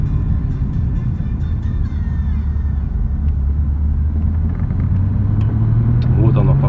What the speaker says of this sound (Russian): Сейчас на второй передаче обороты.